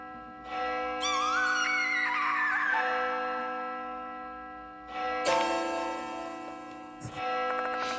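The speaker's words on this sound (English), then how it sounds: "The bell is ringing." A clock tower bell in the horror video game Death Mark 2 rings in long, resonant strikes with lingering overtones. Three separate peals sound loud and close, each decaying slowly, with no talk over them.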